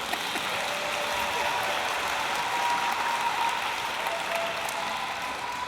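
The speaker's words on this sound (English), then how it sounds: "We applaud you on a job well done." Steady applause from a large audience at the SUNY Schenectady commencement ceremony, a dense even wash of clapping that fills the whole stretch without breaks.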